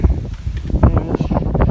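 Gusty wind buffets the microphone with low rumbling bursts on a mountain summit at Mary's Rock, Shenandoah National Park, loud and close, rising and falling throughout.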